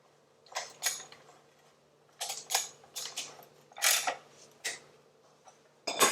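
A part being tightened down on a Jeep 4.0L engine, with bursts of quick metallic ratchet clicks in several separate runs and short pauses between them, close and moderately loud with no talking.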